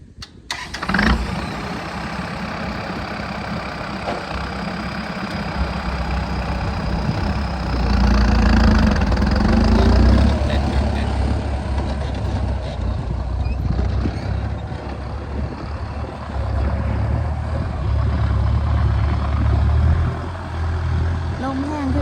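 A tractor engine starts and runs steadily while ploughing a rice paddy, a loud close mid-pitched diesel drone with throttle swells, someone talking over it.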